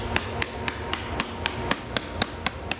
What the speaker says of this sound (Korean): 불에 달구고 망치로 치면서 그릇의 형태를 만드는데